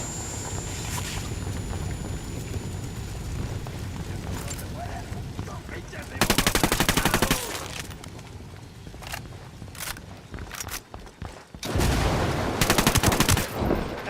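Gunfire and a grenade blast in the Ghost Recon Wildlands video game. Loud bursts of rapid automatic fire come in two long stretches, with single sharp shots between them, under game noise and no clear talk.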